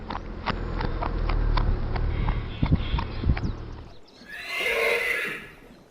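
A horse whinnies and neighs amid steady clip-clop of hooves, loud and close, with several distinct hoof impacts before a high, shrill whinny rings out at the end; a sound effect within a narrated story, with no talk over it.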